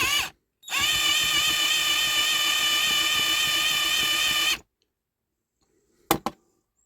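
A power drill whines steadily for about four seconds after a brief start, drilling out a rivet on a diecast toy concrete truck, then stops; a short clack follows near the end.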